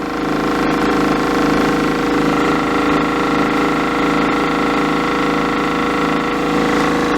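An electro-magnetic pulse motor spinning near 1600 RPM produces a loud, steady whirring hum with many sustained tones and a fast underlying pulse, unchanging throughout, with no voices.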